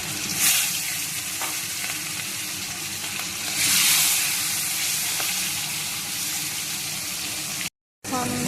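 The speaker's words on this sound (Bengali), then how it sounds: "মাছগুলো এখন ভেজে নেবো এক এক করে।" Rupchanda (pomfret) fish frying in hot oil, a steady close sizzle with soft bursts of crackle and occasional stirring, running throughout before a brief cut near the end.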